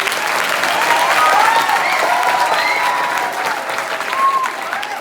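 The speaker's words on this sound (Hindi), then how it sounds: "तो जोरदार तालियां बजाओ हमारे पुलिस स्टाफ के लिए" Crowd clapping loudly for police staff at a public gathering, a thick continuous applause with a few faint cheers and whistles rising through it.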